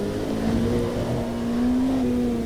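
Race cars, including GT4 cars, a Porsche and a BMW, on a wet track in a racing game: a steady engine drone with a sustained whining tone as the cars run close together, no talk.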